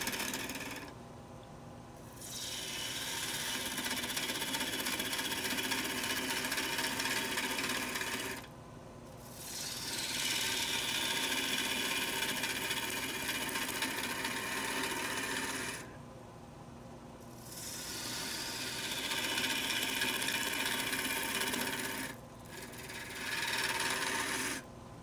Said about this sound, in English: Going back to the spindle gouge here, just beginning to work that stem down.